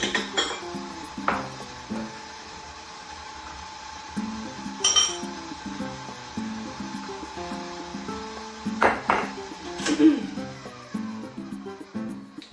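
Whisked banana bread ingredients tipped into a mixer bowl, a steady run of scraping and knocking with several sharp clatters of utensil on bowl, close and moderately loud.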